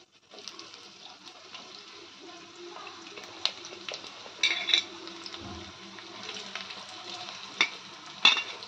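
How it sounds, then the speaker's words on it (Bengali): Chopped onions frying in hot oil in a kadai on a gas stove, giving a steady, close sizzle with occasional sharper crackles and spatters, and no talking. "এবার কুচনো পেঁয়াজগুলো দিয়ে দেব।"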